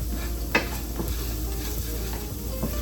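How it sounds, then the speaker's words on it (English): Garlic sizzles in a hot pan for an Alfredo sauce, a constant close crackle broken by a few spoon or spatula scrapes and taps as it is stirred. "give that a stir."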